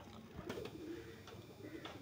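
A female racing pigeon at a pigeon keeper's loft coos close by in a few soft, throaty, rolling phrases over a low background hum, with no talk.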